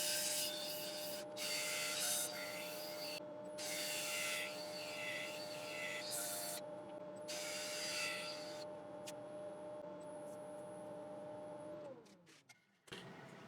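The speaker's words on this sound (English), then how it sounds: "I sanded up to my usual 400 grit" A turned elm bowl inlaid with resin is sanded on a spinning lathe up to 400 grit, a steady close rubbing hiss over the motor's hum, broken into bursts of contact before the lathe spins down.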